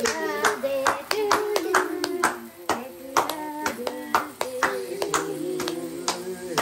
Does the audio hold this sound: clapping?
yes